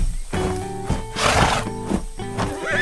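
A cartoon horse on a farm neighs in a loud, close whinny that rises and wavers over a few seconds. A bright animated-style backdrop plays behind it.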